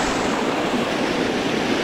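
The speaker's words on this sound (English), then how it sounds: "Pretty nice waterfall here." A waterfall on a Lake District fell near Grisedale Pike, heard as a loud, steady broadband rush of falling water, close and continuous with no talk.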